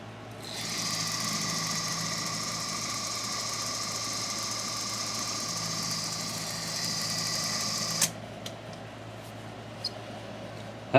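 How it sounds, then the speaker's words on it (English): A drill runs steadily for about eight seconds, boring clearance holes for 6-32 screws in a front plate, then cuts off, leaving a few faint clicks and taps in a quiet room. "So I can probably go through and drill these now to what the clearance size for a 632 is."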